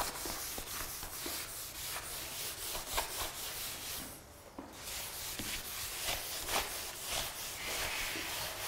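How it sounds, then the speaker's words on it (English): Cloth rags wiping and rubbing excess stain off a white oak hardwood floor, a steady close scrubbing texture in repeated strokes with a brief pause midway. "And then I got a ton of these rags and I'm just gonna wipe it off."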